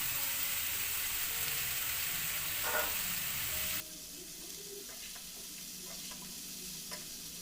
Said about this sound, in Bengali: হলুদ আর মশলাটাকে দুই তিন মিনিটের মতো নেড়ে চেড়ে একদম মিশিয়ে নিতে হবে